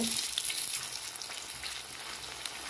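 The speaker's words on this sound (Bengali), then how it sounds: "এবার আমি উল্টে পাল্টে ভালো করে ভেজে নেব।" Sabudana pakoras fry in hot oil at medium heat, giving a steady close crackling sizzle with bright hissing throughout and no voice.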